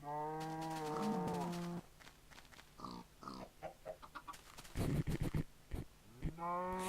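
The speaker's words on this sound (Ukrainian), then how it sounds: "Давайте ще коровок заспавнимо." Several blocky Minecraft cows moo in long, drawn-out low calls, one opening the clip and another closing it, with scattered game clicks and thumps in between.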